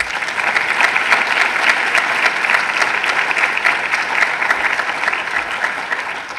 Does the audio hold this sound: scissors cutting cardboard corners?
no